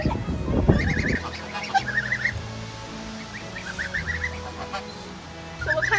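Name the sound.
Roman tufted geese honking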